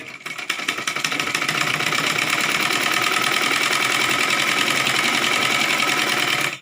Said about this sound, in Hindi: अब हम इसको ऐसे फोल्ड करके इसकी सिलाई कर लेंगे।